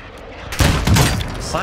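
Gunfire in the Warzone 2 video game, a sudden loud close volley of shots in quick succession, with a brief quieter tail.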